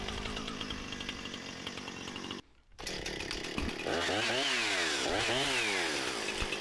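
A chainsaw cuts through a spalted maple log, snarling loudly and close up with a brief drop out, then returning with rising and falling revs as the cut goes on.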